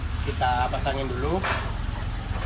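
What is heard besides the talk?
rebuilt ex-taxi car engine started and idling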